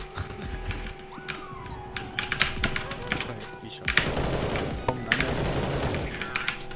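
Rapid bursts of gunfire in CS:GO on the Mirage map, sharp repeated shots that cluster into dense volleys in the second half, close and loud over steady game background noise.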